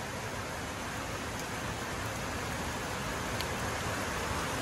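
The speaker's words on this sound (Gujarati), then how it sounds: "ત્યાં વરસાદ ચાલુ થઈ ગયો" Gentle rain falling steadily on a cotton farm after cattle have been washed, a soft even hiss with no pauses, heard alone without talk.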